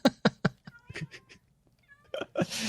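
A cat in the Minecraft video game gives a series of short, sharp meows, followed by a longer, drawn-out yowl and then a burst of noise at the end.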